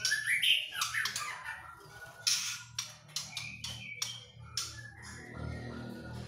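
Caged local songbirds at a bird shop chirp, whistle and squawk close by in a lively, overlapping mix of short calls and sharp tweets, with no talk.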